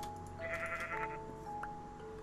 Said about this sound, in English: Poor sheep.